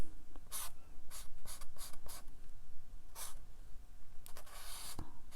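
A pencil sketches a bird on watercolor paper in quick, scratchy strokes, several bursts of close scribbling separated by short pauses.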